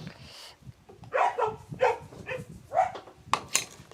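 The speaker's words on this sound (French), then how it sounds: "dès que je mets en route que les toutous ils commencent" Dogs bark in short, sharp bursts, several yelps in a row at moderate distance, as the engine of a TGB 50cc scooter is started.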